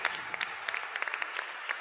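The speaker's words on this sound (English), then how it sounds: "Can we give great round of applause for this?" Applause from a conference audience fills a short moment, a steady wash of many hands clapping at moderate distance with no voices over it.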